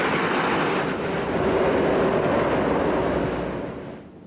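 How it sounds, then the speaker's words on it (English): Jet aircraft engines roar up in revs as a plane slams onto an aircraft carrier deck, a loud sustained broadband howl that swells, then fades at the end. "So this thing crashes on the deck. The engines scream up in revs"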